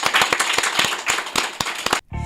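An audience gives a round of applause for Dr. Stephen Jones, an educator, at a master class. Close, crisp handclaps come in a fast irregular burst for about two seconds before cutting off abruptly.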